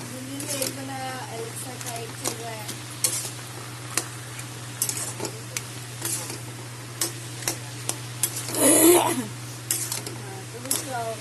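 Fried katla fish head being stirred into ash gourd curry in a pan, a spoon scraping and clicking in short irregular strokes over a steady low hum, with soft sizzling and a brief louder rustle near the end.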